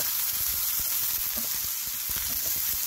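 Green tomatoes added to a hot frying pan for a prawn curry, a steady close sizzle of oil with light stirring scrapes and no talking.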